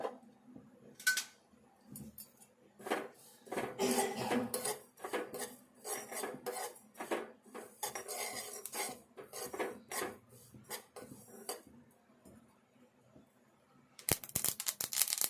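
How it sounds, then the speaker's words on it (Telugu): Sesame seeds dry roasting in a pan, crackling and popping in quiet bursts with repeated scraping and rattling of a spatula against the metal, ending in a loud rush of noise. "చిడతాయి చూడండి, ఇవి ఇప్పుడు వేగుతున్నాయి అన్నట్టు."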